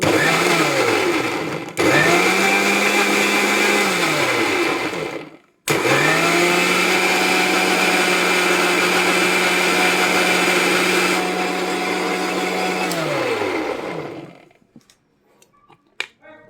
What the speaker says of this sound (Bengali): এবার এটাকে আমি ব্লেন্ডারে ব্লেন্ড করব